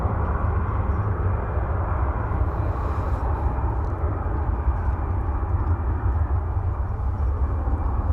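An aircraft at DFW Airport roars steadily from a distance, a constant broad engine rumble that holds at the same level throughout with no voices.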